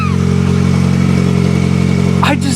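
A 1991 Plymouth Colt Vista with a Mitsubishi 4G63 engine runs loud and steady at a low, even idle, with a brief squeak near the end.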